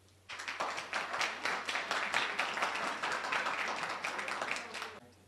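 An audience at a 2018 California 42nd Congressional District candidate forum applauds a candidate, a dense, sustained round of clapping that runs for several seconds before cutting off.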